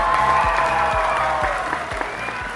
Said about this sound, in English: does the crowd still cheer after you introduce me?